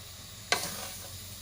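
Beaten egg and pumpkin hit a hot pan with one sharp sizzling burst that fades into a soft, fizzing crackle, close and fairly quiet, with no talking.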